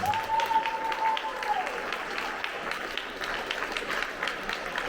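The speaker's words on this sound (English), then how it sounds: "Let's give these guys a round of applause." School audience applauding honor roll students at an 8th grade awards assembly, steady clapping from a crowd throughout, with a brief tonal whistle or squeal near the start.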